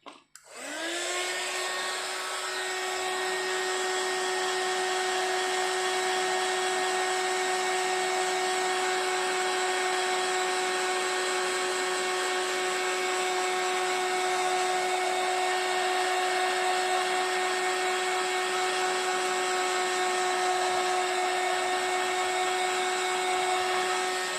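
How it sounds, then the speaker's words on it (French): A heat gun drying ink on a card blows with a steady, loud whirring drone, unbroken and unchanging for the whole stretch, nothing else heard. "moi je viens sécher ça avec mon heat gun"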